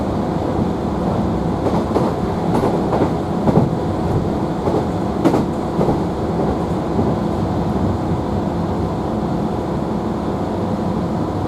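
Onboard ride in a GWR Class 165 diesel multiple unit between Blackwater and North Camp: a steady, loud broadband rumble of the moving train fills the whole stretch, with a few brief rattles and clunks, and no talking.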